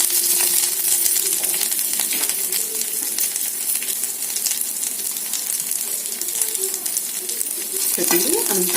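Spices and crushed garlic fry in hot oil in a pan, a dense steady sizzle with light stirring scrapes and a clink of a utensil near the end.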